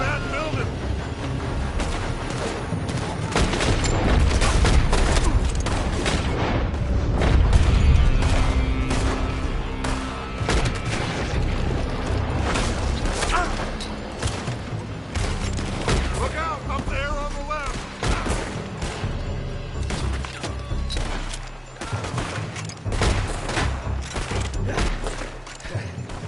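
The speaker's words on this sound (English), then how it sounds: "They're shooting from that building!" Dense gunfire and booming explosions from the Wild West game Red Dead Redemption 2: rapid shots and blasts crackle without pause, loud and close, while voices shout over the battle.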